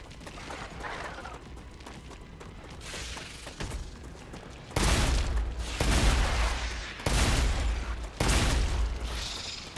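Shotgun blasts in the StarRupture video game, a handful of loud, heavy booms spaced about a second apart over a background of game noise.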